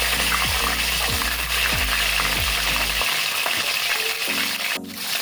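Garlic, fenugreek, dried red chillies and curry leaves fry in hot oil while being stirred, a steady sizzle running throughout with a repeated mechanical clicking over the first few seconds.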